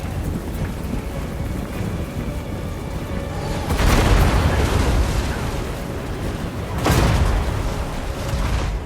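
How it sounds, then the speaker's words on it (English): Gyrocopter bombs explode on a battlefield in the Total War: Warhammer video game, with two heavy, rumbling booms a few seconds apart over a continuous dense roar of combat noise. "He charged his men over the hill and went directly under my gyrocopters, which caused me to bomb them."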